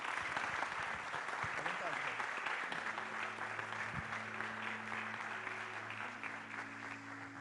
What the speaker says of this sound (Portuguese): Vamos recebê-lo aplaudindo Jesus na vida dele.